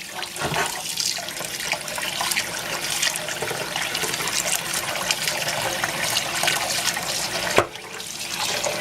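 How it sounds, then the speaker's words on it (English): Cold tap water runs steadily into a pan as raw liver is rinsed in a kitchen, a continuous splashing rush with a sharp clatter near the end. "So I'm just going to cut this thing open and wash it in the pan."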